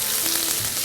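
Chopped onions browning in hot oil in a pan for chickpea curry, giving an even, close sizzling hiss over a brief moment with no speech.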